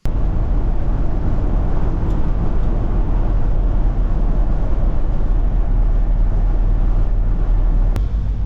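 A Chevrolet Suburban rolling along after a steering upgrade, its steady low engine and road rumble filling the cabin continuously and loud, with no voices.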